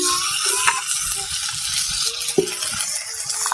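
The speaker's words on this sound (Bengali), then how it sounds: "আমি ওর মধ্যেই দিয়ে দেবো এবারে টমেটো কুচি" Chopped tomato hitting hot oil in a pan, a bright continuous sizzle with a few stirring clinks and scrapes, loud and close with no voices.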